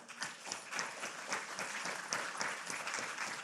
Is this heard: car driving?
no